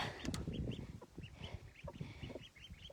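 A female Rouen duck with her ducklings calls nearby in a farmyard, with short repeated honking quacks at an uneven pace and a busy rustle beneath.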